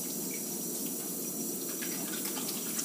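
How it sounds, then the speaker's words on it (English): Water runs steadily from a kitchen tap into a sink during hand washing, a continuous close, even rush with no talk over it. "I'm going to step over here and wash my hands so we don't have this everywhere"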